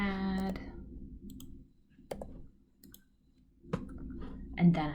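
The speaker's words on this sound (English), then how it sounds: "and then I can click Insert Math" Computer mouse clicks during a math software tutorial, a few sharp isolated clicks with pauses between them, while a voice is heard briefly at the start.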